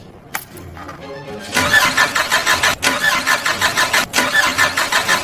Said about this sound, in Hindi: उन्होंने कार को स्टार्ट करने की कोशिश की